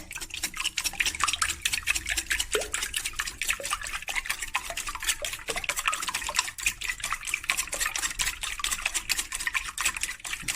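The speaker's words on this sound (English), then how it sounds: "I'm going to add some vanilla, about 2 teaspoons, and I'm just going to loosen up the eggs" Eggs and vanilla whisked in a bowl, a steady run of quick metallic clicks and liquid sloshing close up, continuous and fairly busy throughout with no talk.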